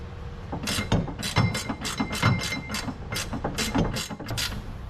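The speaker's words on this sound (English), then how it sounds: "we're gonna get this upper shock bolt out of here now. I'm using one of these flex head wrenches with the offset" Flex-head ratcheting wrench with an offset head loosening the upper rear shock bolt on a 1963 Lincoln, giving a loud, steady run of close ratchet clicks in quick repeated bursts.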